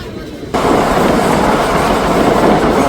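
A passenger train on the Bathinda to Ambala line runs fast, its steady rumble and rush of wheels starting abruptly after a quieter half second and staying loud throughout.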